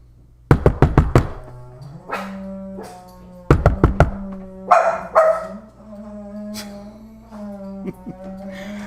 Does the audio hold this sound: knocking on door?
yes